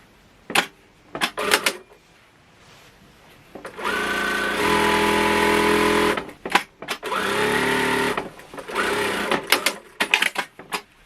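Sewing machine stitching the side seam of a fabric curtain panel: short clicking bursts give way to two long, steady runs of mechanical whirring, close and fairly loud, with no talk.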